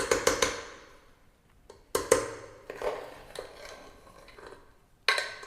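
A spoon scraping and clinking against the metal of a pressure cooker while ghee rice is stirred, in several separate sharp knocks with quieter scraping between them, close and with no talking.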